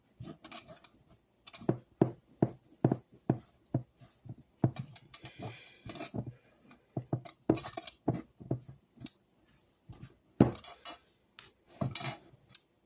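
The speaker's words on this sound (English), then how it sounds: "So you're just going to continue to mix until all that cake mix is gone." Cake-mix cookie dough for chess bars being worked in a bowl: quick rhythmic clinks and scrapes of a utensil against the bowl, repeating steadily and close up, with no voices.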